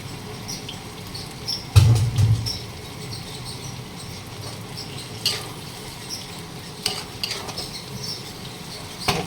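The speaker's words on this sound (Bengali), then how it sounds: "এবার আমি কাঁচা মাছগুলো মশলার মধ্যে দিয়ে ভালো করে কষে" Raw fish is stir-fried in a thick spice masala, a soft, low frying hiss with a couple of heavier scraping stirs and occasional light clinks from the utensil.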